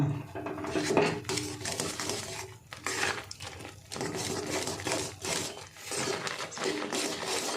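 A dough of flattened rice powder and gram flour mixed with water is stirred in a pot, making continuous rhythmic scraping and clattering strokes, close and fairly loud, with brief pauses between runs.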